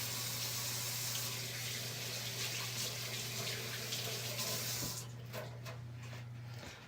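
Running tap water hissing steadily into a kitchen sink while a bowl is rinsed, with a constant low hum underneath, until the flow cuts off near the end.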